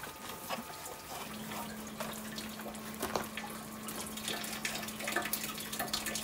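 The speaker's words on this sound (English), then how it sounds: "That pump is probably running at," Water pump in an aeroponic tower running at maximum, circulating water with a steady low hum under continuous trickling and dripping, close by and moderately quiet, with no talking.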